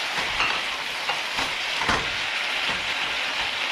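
Beef sizzles steadily in a hot pan for a chayote stir fry, a constant bright frying hiss with a few faint clinks and stirring sounds, close and continuous, without talk.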